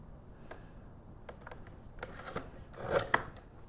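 Cardstock for a mini album is trimmed down, giving a series of light scratchy cuts and clicks, sparse at first and then clustering into a louder run of quick strokes near the end, close and alone.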